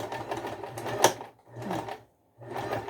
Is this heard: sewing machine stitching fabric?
yes